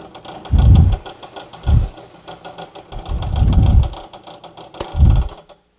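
A drill bores a hole with a 7/8-inch bit in wood to make a router circle jig, four loud bursts of motor whine in separate pulses, the longest in the middle, with pauses between and a sharp click near the end.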